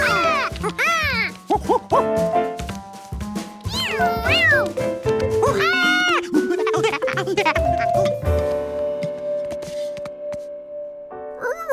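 A cartoon cat lets out a run of bright, swooping meows, some long and wavering, over light background music, close and prominent throughout.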